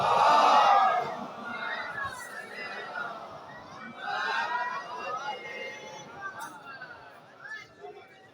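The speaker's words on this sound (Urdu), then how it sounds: "اتنی ہی بلند آواز میں سلام پڑھ دے محمد والے محمد" A congregation at a Muharram majlis in an imambargah loudly recites salawat together, opening with a strong surge of massed voices that settles into a continuing crowd chant and murmur.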